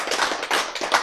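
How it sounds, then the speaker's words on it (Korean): A few quick bursts of hand clapping from a lecture audience, three or four loud pulses in about a second, close and without speech over them. "박수."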